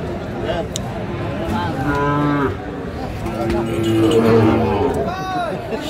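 A Sahiwal bull calf lows at a cattle market, with several drawn-out moos, loud and close, over a constant murmur of crowd chatter and nearby voices.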